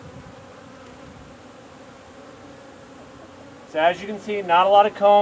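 Honeybees drone in a steady low buzz as frames are shaken out during a hive inspection, a faint hum for several seconds before a voice starts talking over it.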